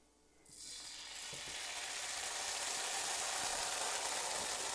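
Liquid poured into a very hot pan with garlic bursts into a loud, steady sizzle that starts abruptly and keeps building into a bright, hissing fry.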